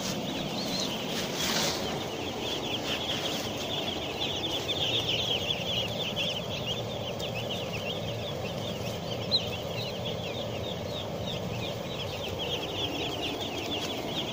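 A constant chorus of about 4,000 small chicks cheeping fills a poultry house, steady and dense throughout, with no one speaking.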